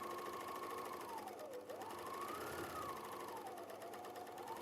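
Sewing machine stitching fabric at a steady speed, a continuous close mechanical hum and rattle lasting several seconds with a slowly wavering pitch, alone without talk.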